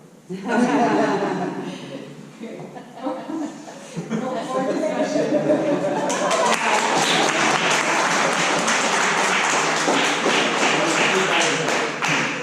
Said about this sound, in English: See, Shelby gets the applause.